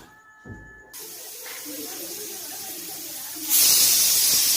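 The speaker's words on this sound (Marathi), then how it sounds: "कुकर ठेवलंय, आता एक शिट्टी फक्त करायची आहे" A pressure cooker on the gas, cooking peas and potatoes for pav bhaji, releases steam in a loud continuous hiss that surges even stronger toward the end.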